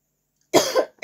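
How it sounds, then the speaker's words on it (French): One short, harsh cough from a woman who is ill, loud and close, followed by the start of a second. "Désolée pour la toux."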